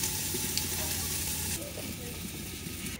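Steady oil sizzle of cauliflower frying in a pan, loud and close, easing slightly partway through.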